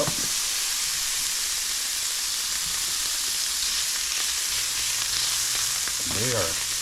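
Scallops fry steadily in a hot pan, a dense, loud, continuous sizzle with a faint clink near the end.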